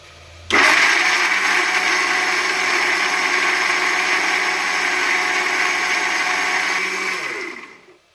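Mixer grinder whirring steadily as it grinds tomato masala into a fine paste, starting abruptly and running loud and even for about seven seconds before winding down.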